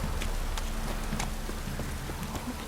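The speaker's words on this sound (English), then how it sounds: "This downpour's a bastard" Heavy downpour in The Witcher 3, a dense, constant hiss of rain pattering on surfaces, loud and steady with scattered drop ticks and no talking.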